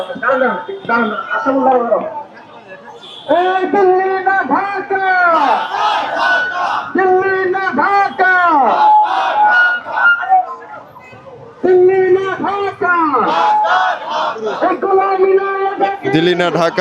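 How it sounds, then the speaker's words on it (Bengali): Crowd of students at Dhaka University chanting the protest slogan 'Golami na Azadi' in loud, rhythmic unison, shouted phrases repeating in waves with brief pauses between, close and sustained. "গোলামিনা আজাদি স্লোগানে কিন্তু উত্তাল এই মুহূর্তে ঢাকা বিশ্ববিদ্যালয় এলাকা"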